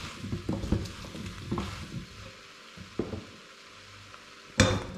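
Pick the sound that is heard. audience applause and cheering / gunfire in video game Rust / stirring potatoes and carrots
stirring potatoes and carrots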